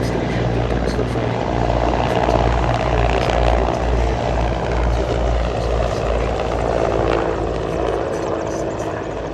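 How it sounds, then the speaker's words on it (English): Mi-35 attack helicopter, an export version of the Mi-24V, flying at the Duxford Battle of Britain Airshow in 2022, with a loud continuous thudding rotor chop and engine roar that stays close and steady throughout. "And there's the Mi-35, an export version of the Mi-24V, turning away first."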